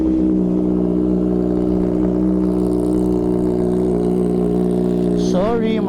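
A Kawasaki ZH2 motorcycle idling steadily after a cold start, a close, even engine drone that rises into a brief rev near the end.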